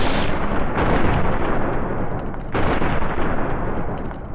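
Loud, sustained gunfire in the video game Fallout: New Vegas, a dense continuous roar of shots with a brief dip partway through before it surges again, heard alone without talk.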